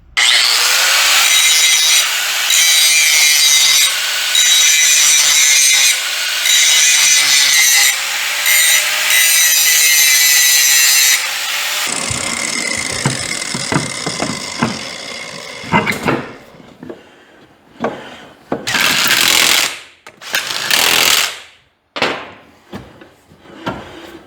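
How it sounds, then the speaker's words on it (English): An angle grinder grinds down brake calipers on a Fairmont for about twelve seconds of loud, steady, wavering metal grinding, then cuts to shorter, choppy bursts of grinding and scraping with gaps between them. "Let me get a grinder and just grind them down a little bit and see what it does."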